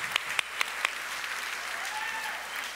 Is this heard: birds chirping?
no